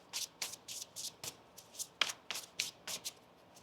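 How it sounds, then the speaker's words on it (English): Tarot cards are shuffled by hand in a quick run of about a dozen crisp riffling bursts, close and fairly quiet, with short gaps between them and no talking. "One more shuffle here."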